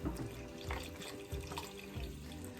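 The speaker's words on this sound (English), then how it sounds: "we're just gonna pour this whole chicken broth container in here" A whole carton of chicken broth poured into a soup pot for homemade chicken noodle soup, a continuous gurgling, splashing stream of liquid, near and soft, lasting a few seconds with no talking.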